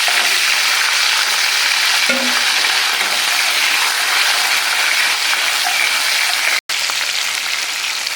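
Onion and garlic hit hot oil already crackling with mustard seeds, fenugreek and cumin for an eggplant curry. A dense, even sizzle holds loud and close, broken by one brief dropout near the end.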